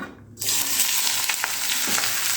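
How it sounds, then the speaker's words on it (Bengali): Onions dropped into hot oil for frying, a loud, close, continuous crackling sizzle that rises suddenly and holds steady with light stirring, with no talking. "এখন আমি ওই তেলের মধ্যে ভেজে নেব পেঁয়াজগুলো"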